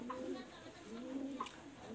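A pair of Kamagar breed pigeons coo softly in low, repeated rolling calls over a quiet background hum, with no one talking.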